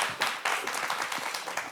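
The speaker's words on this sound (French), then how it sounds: "On l'applaudit encore une fois très fort" Studio audience on a TV talk show applauding a guest, a brief burst of lively, dense clapping at close range with no speech over it.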